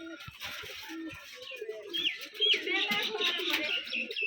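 Rajshahi Giribaj pigeons coo and chirp nearby at a pigeon farm, soft repeated calls running throughout under a background murmur of voices.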